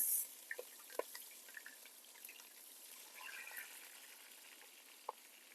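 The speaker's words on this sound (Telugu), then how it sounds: "ఆల్రెడీ నూనె బాగా మరిగింది పచ్చిమిర్చి వేసేస్తున్నాను" Green chillies dropped into well-heated oil while cooking an Andhra-style pond fish curry, giving a quiet steady sizzle with a few sharp pops and crackles, no talking.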